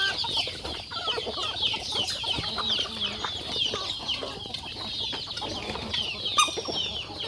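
Chickens cluck and chatter at a rural Thai farmyard, a busy continuous flock sound with overlapping calls at moderate distance and no talking.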